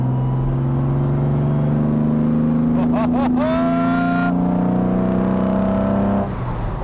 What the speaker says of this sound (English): what does 300 naturally aspirated straight 6 Jaguar horsepower feel like in a 1200 kilogram E-type?